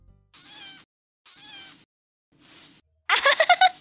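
A kitten in a Vietnamese animated fairy tale gives three short, clear meows spaced evenly apart, followed by a louder, choppy burst of cartoon cat vocalizing.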